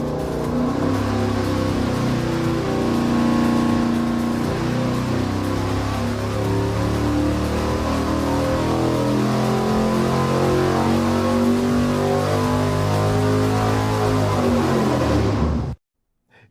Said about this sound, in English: I'm gonna make Steve fire it up on the dyno